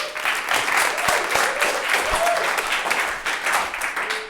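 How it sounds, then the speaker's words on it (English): An indoor audience claps steadily when a speaker is introduced at a talk, a dense sustained patter of hands close by with a few faint whoops. "So let's give a great applause for Bart."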